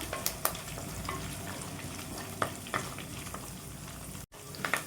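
Curry leaves sizzle in hot oil for a tempering, a steady close crackle with scattered sharp pops and a few stirring knocks, no voices.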